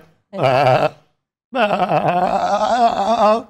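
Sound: voice imitating a goat bleating

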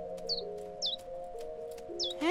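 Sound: bird chirping while building a nest, cartoon

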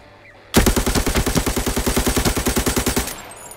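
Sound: gunfire in the video game Arena Breakout

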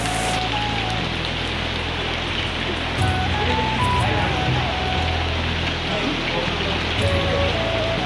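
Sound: rain falling at Bhimashankar temple

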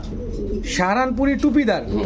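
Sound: pigeons cooing at a pigeon market

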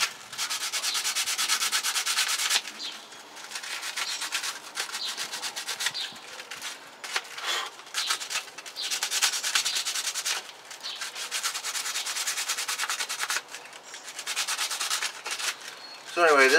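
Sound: sanding mold off a gourd with sandpaper

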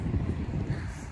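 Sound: strong wind in Hamburg

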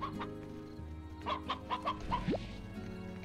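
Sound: chickens clucking in video game Slime Rancher

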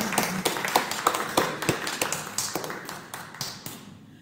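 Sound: congregation applause in church

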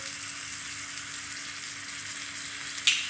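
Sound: sautéing spices in a miniature pan for chicken biryani

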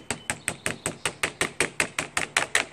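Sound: hammer striking while installing a pet door

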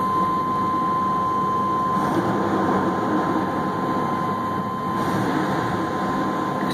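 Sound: 1996 Chevy S10 4.3 engine accelerating

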